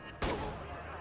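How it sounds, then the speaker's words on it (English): A single sharp gunshot in the game Watch Dogs bursts out and rings into a sustained rumbling tail. "I'm hearing gunfire here."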